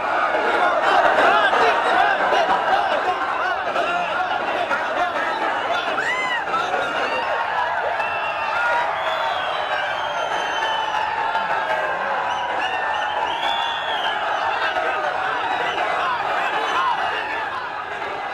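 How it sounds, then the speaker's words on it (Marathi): A huge crowd of Maratha protesters fills CSMT station with a dense, continuous roar of voices, shouts and chatter, loud and steady throughout. "मराठा आंदोलकांची तुफान गर्दी झालेली आपण सी एस एम टी स्थानकावरची पाहू शकतोय"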